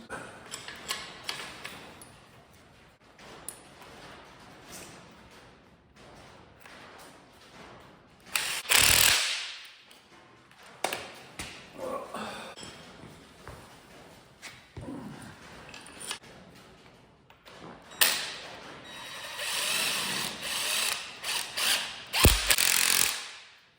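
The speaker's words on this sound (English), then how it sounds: "I'm going to go ahead and use the spring compressor to compress these." A spring compressor tightens a strut coil spring during front suspension work on a 2005 Lexus ES330, heard as close, repetitive ratcheting and clicking, with louder metallic clanks and bursts of tool noise scattered through.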